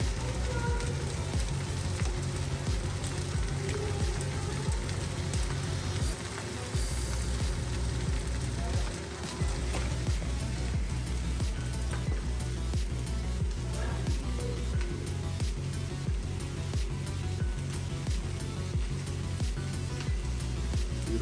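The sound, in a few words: egg sizzling while stirred for chicken fried rice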